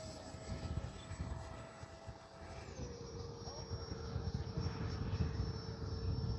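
An RC F-86 Sabre model with a 64mm electric ducted fan flies in the distance. Its thin, steady whine drops in pitch as the throttle is pulled back, over a low rumble of wind noise.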